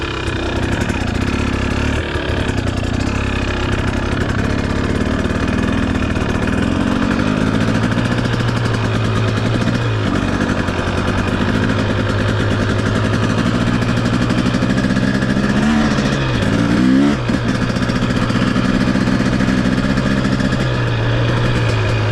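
A 2023 KTM 250 XC two-stroke dirt bike idles close by on a cool, damp morning, a loud buzzing drone that stays steady, with a few brief throttle blips toward the end.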